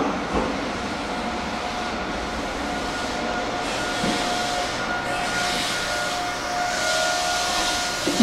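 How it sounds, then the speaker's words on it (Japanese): An express train pulls into a Japanese railway station for the last service of the night, a sustained low rumble with hissing and faint rail clatter that swells gradually, unaccompanied by voices. "到着いたします電車は35分発特急の広域でございます。"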